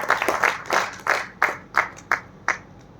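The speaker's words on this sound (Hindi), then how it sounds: "चलिए जोरदार तालियां" A small group claps in about nine distinct, loosely rhythmic bursts, each a sharp cluster of hand claps, moderately close and fading slightly toward the end, with no talk over it.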